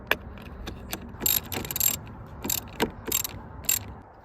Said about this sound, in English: Did I choose the correct wrench size? Is it a 13?